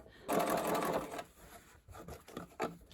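A sewing machine runs a continuous stitching burst along a bucket hat seam, loud and close, then drops to intermittent short runs with softer handling sounds between.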